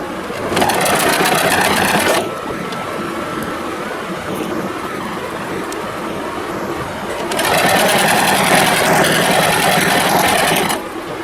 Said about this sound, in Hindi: हाफ में हम सिलाई लगाएंगे, जितनी हमें पीछे तक बेल्ट बनानी है उतनी।